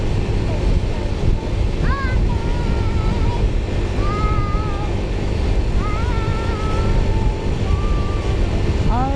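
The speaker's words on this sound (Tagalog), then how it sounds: "Lakas ng hangin, Mac." Strong wind roars across the microphone while riding a Mio motorcycle at about 60 on an open road, a dense, steady low rumble with faint wavering voice-like tones drifting over it.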